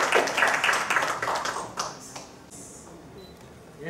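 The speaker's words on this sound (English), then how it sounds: "Clap, please." Audience clapping at the launch event for an East African SME trade platform, a burst of claps that fades after about two seconds into quieter room noise.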